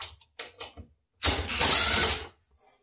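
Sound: socket wrench removing refrigerator screws

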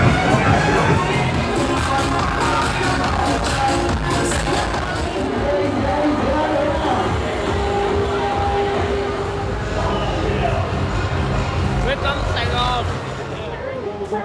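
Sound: loud crowd noise on Bui Vien walking street, Ho Chi Minh City

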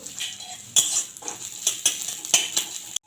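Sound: chopped onion frying in oil in a wok

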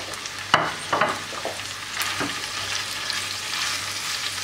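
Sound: stirring the börek filling in a pan

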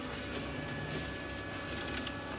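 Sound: office printer running

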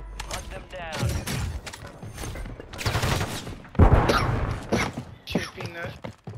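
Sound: gunfire from a video game, Call of Duty Rebirth Island

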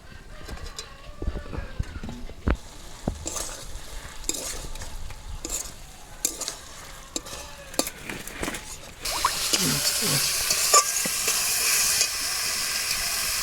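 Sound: egg frying in a kadai

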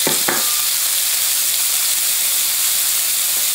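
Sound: carrots sizzling in oil in a pan

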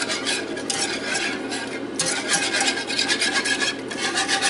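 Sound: whisk stirring cream gravy in a pan

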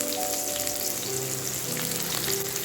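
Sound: garlic and ginger frying in oil until golden

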